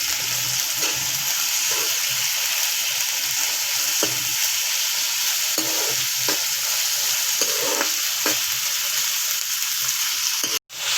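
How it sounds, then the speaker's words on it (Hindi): Chicken pieces frying in a pan: a loud, continuous hissing sizzle up close, with faint scrapes and taps of stirring now and then, and a brief dropout near the end. "इसको हम बस 2 से 3 मिनट फ्राई करेंगे ताकि इसका कलर चेंज हो जाए"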